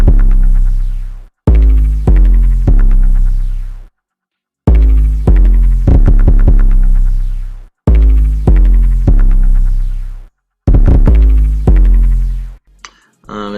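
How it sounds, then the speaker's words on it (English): A loud, booming 808 bass pattern from the Tarzan Sounds pack with a percussive sound layered on top. Heavy sustained low notes come in separated phrases with short gaps and quick rolled hits between them, with no talk. "This is a really weird 808 from the Tarzan Sounds pack."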